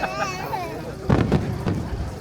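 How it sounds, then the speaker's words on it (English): Nagaoka fireworks bursting over a night sky in Japan, a few deep booms and crackling bursts arriving in the second half beneath a narrating voice that talks throughout. "As the fireworks rise into the night sky, thousands of people watch together."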